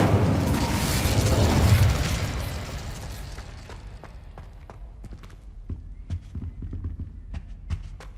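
A heavy whooshing burst of fire from the Incendio spell in Hogwarts Legacy roars for a couple of seconds, then fades into scattered crackles and light ticking sounds.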